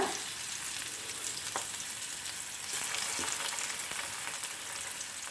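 Whole sardines fry in a pan over a medium flame, giving a constant, even sizzle with faint occasional crackles and no voices.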